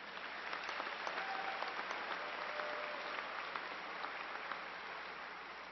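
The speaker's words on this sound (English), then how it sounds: "Please join me in a round of applause for these individuals." Steady applause from a university commencement audience, a broad even wash of clapping held at moderate loudness from start to finish with no talking over it.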